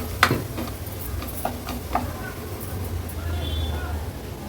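Ground dry coconut paste sautés in oil, a gentle sizzle with a few sharp taps and scrapes of a spoon early on, while a voice is faintly present in the background.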